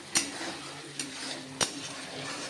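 Masala with turmeric stirred and sautéed in a pan, three sharp spoon knocks against the metal amid a soft continuous sizzle, close by with no talking.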